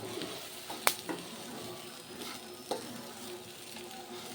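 Flattened rice (chira) fries with a splash of water in a pan, a quiet, continuous sizzle broken by a few sharp spatula clicks and scrapes as it is stirred.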